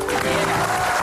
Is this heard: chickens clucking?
no